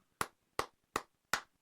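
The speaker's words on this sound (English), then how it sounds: "Let's give you a few claps." Four sharp hand claps at a steady, even pace, close and distinct with silence between each, coming at the end of a late-night comedy show conversation.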